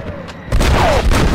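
Gunfire in the western video game Red Dead Redemption: a loud, booming shot bursts in about midway and is followed by continued heavy, rumbling blasts, with game background sound underneath.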